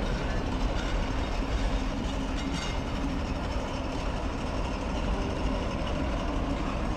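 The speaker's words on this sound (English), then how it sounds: "Well, here's the train." In the video game The Charnel House Trilogy, a train pulls in with a steady, low rumbling drone and faint rolling noise, constant and moderately quiet with no voices.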